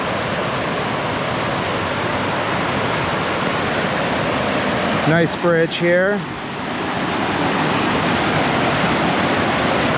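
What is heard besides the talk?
Oneonta Creek flowing water and waterfalls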